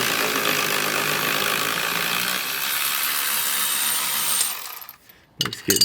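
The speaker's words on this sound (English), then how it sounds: "let's get the flex disc bolts out right now" An air or power tool buzzes steadily and loudly for about four and a half seconds while backing out the transmission flex disc bolts beneath a Mercedes C55 AMG with a 772.6 automatic, then cuts off, leaving brief clanks.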